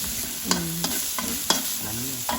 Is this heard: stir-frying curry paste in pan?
yes